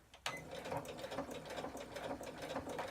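A sewing machine stitches a simple bag, starting with a sharp click and then running at a fast, steady mechanical patter, close and fairly quiet with no talking.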